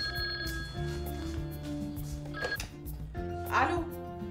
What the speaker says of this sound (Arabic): التليفون عم بيرن، رد أنا ولا ترد أنت؟